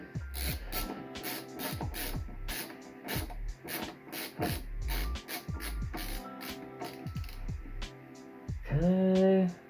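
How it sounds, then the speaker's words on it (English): An LTT ratchet screwdriver tightening a screw, giving a steady run of close mechanical clicks and ratcheting strokes, with a brief tonal whir near the end. "when I use this ratchet, it just feels so much nicer"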